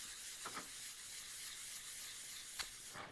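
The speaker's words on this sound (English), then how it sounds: "Once those lines disappear, I know that I have completely sanded" A photo transfer on wood is hand sanded wet with 600-grit paper, a steady close rubbing hiss with a few brief scuffing strokes, quiet and continuous without talk.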